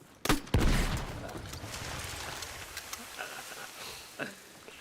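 Gunfire in the video game Battlefield 6 RedSec, a battle royale mode: two sharp shots open the clip, followed by a lingering rumble and a few fainter distant pops.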